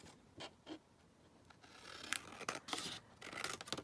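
Scissors snip through paper for a Victorian album junk journal, a few quiet separate cuts followed by a denser run of crisp snips, close and alone.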